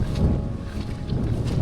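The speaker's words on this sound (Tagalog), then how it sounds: "Malakas yung hangin dito sa lugar na pwestohan namin." Strong wind buffeting the microphone at a lakeside resort on Lumot Lake in Cavinti, Laguna, a loud continuous low rumble with gusty swells, no talking.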